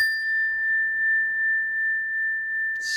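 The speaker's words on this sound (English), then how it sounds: "So ring the bell." A single meditation bell rings once with a pure, sustained tone that hangs steadily and fades slowly in an otherwise quiet space.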